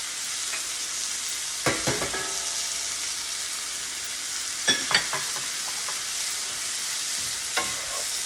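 Garlic and spinach sautéing in a pan, a steady soft sizzle punctuated by a few bursts of spatula scraping and clinking, close, with no talking.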